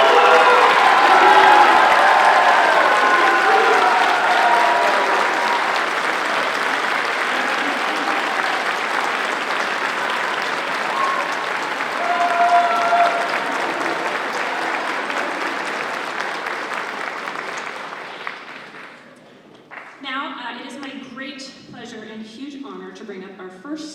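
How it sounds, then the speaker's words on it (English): Loud audience applause and cheering for band directors at a school honor band concert, sustained crowd clapping that gradually fades out, followed by a person speaking. "would you please stand up so we can clap really hard for you?"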